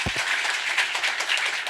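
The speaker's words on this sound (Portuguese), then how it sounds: "Então, uma salva de palmas," A lecture audience bursts into steady, dense applause, many hands clapping loudly and evenly throughout with no talk.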